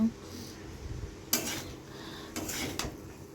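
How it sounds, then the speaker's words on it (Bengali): Chow mein stirred and mixed in a pan with white oil, salt and chow mein masala: metal utensil scrapes and clanks in a few bursts over a quiet background. "সুন্দর করে আমি মিক্স করছি"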